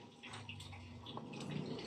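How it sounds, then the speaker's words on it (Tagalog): Water hisses and splashes steadily throughout, like a hose or tap spraying nearby, with faint gurgles and drips and no talking. "pasiritan mo dito ng tubig, Libby"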